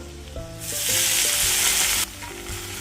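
Chopped chana (harbhara) greens hit hot oil spiced with cumin, dried red chili, garlic and green chili, setting off a loud close sizzle that swells then cuts back abruptly, over music.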